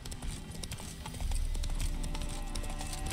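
Horse hooves clip-clop steadily in The Witcher 3 as the horse is ridden along, a continuous rhythmic trotting under game ambience with no talk.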